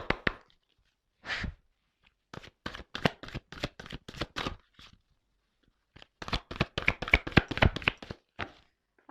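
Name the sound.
shuffling large tarot cards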